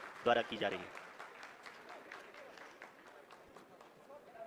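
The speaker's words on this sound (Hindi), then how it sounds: "आप इस तालियों के गड़गड़ाहट को सुन सकते हैं जो कि सेकंड हाइवरिक फेज के कंप्लीट होने के बाद इन सारे वैज्ञानिकों के" ISRO scientists applaud in a control room after a Chandrayaan 3 descent phase completes, a steady wash of many hands clapping at moderate distance beneath a voice talking over it.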